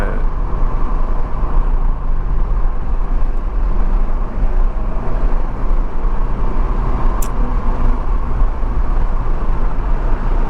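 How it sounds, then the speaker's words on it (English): A 1985 Porsche 928 S Euro drives along with a steady, loud low engine drone and road rumble filling the cabin, continuous and unbroken, with no voices. "this is a really fun car to drive."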